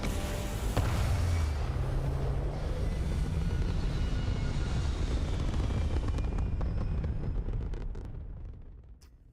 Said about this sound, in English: I do like that engine sound, I've got to admit.